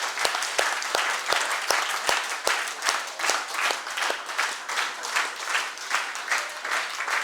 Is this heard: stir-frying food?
no